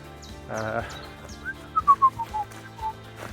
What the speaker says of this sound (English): Well, I find myself whistling.